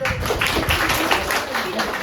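A classroom of students clapping their hands on cue during a teaching practice lesson, a dense, even burst of claps lasting a couple of seconds, with some voices mixed in.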